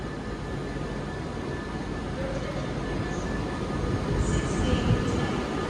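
A passenger train pulling out of London Euston bound for Crewe, a steady low rumble of wheels and traction building slightly over several seconds, moderately distant.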